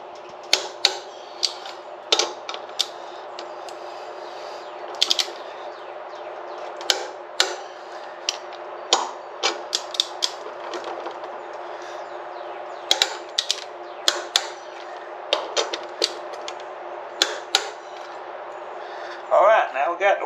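Wheel nuts on a cargo trike are tightened with a ratcheting tool, giving a series of sharp clicks and clacks at irregular intervals over a steady background hum, with a person speaking at times.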